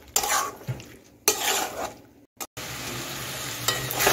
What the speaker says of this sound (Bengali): এখন আমি কেটে ভেজে রাখা আলুটা আর মটরশুঁটি দিয়ে দিচ্ছি, দিয়ে একটু 1 মিনিটের মতো একটু কষিয়ে নিচ্ছি।